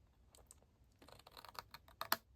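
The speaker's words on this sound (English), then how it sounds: "I want to cut up these score lines here" Paper being cut along score lines while making a reinforced sticky notes holder, heard as a series of soft, close crisp snips and scrapes that grow louder toward the end, with no talking.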